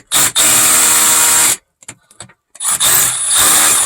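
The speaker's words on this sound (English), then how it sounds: "Sure, we can try the drill." A rock drill bores into stone in a silver mine 400 feet underground at Cerro Gordo, running loud and close in two long bursts separated by a short pause with faint clatter.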